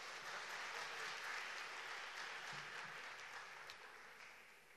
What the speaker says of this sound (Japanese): 今一度それでは皆様大きな拍手をお願いいたします